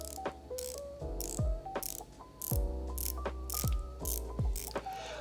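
Unidirectional bezel on a DOXA 300T dive watch being turned, giving a series of crisp, close ratcheting clicks in quick bursts with short pauses between turns, no voices.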